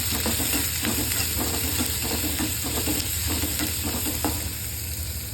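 Green chilies and garlic sautéing in a pan for a spicy kadala chutney, a continuous close sizzle with light, regular stirring scrapes throughout, no voices.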